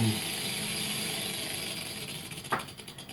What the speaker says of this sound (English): A rattlesnake sounds like this.